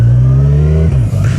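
A Kawasaki Z1000SX motorcycle accelerates close by, its loud engine pulling in a steady rising drone before a gear change near the end.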